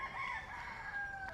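A neighbour's rooster crows once in a long, wavering call that carries steadily through the clip, heard from some distance with no talking.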